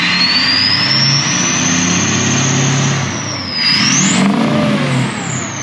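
A loud hot rod engine at a fall rod run revs hard and holds a high roar, dips briefly, then climbs again, close and dominant throughout.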